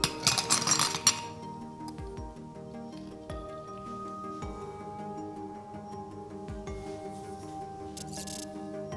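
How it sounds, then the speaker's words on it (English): Ice cubes dropped into a cocktail glass for a Lemon Drop, a loud cluster of clinks and rattles at the start, then a quieter ringing settle with a few scattered glassy ticks. "Let's start our cocktail by adding ice to the glass and leaving it in the side to chill."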